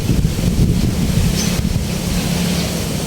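Steady wind roars and buffets against the microphone, a constant low rumble with hissing gusts and no voices.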